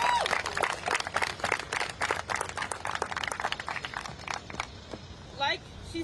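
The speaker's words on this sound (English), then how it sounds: "So everyone give a round of applause for our next speaker" A crowd at an outdoor student-led protest walkout claps in a lively, uneven burst that fades out after a few seconds, with voices talking and calling out through it.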